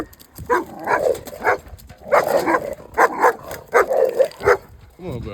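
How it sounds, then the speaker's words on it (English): A German Shepherd barks in a rapid series of loud, close yips and barks in uneven bursts, with brief pauses between groups. "German Shepherd, baby. Look at my dog."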